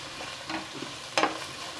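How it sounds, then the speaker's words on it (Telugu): Onion, beans, capsicum, carrot and cauliflower being stir-fried for street-style egg fried rice, giving a soft steady sizzle with a few scraping stirs of a spoon in the pan, one louder stroke near the end. "ఆనియన్స్ కొంచెం ఫ్రై అయిన తర్వాత బీన్స్, క్యాప్సికము, క్యారెట్, క్యాలీఫ్లవర్ ఇదంతా వేసుకొని ఫ్రై చేస్తున్నాను."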